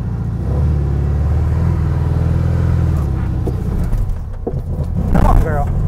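A 1968 Volkswagen Beetle barn find, run again after 20 years, revs and rumbles steadily as it drives through a muddy ditch, loud and close, with a voice calling out near the end.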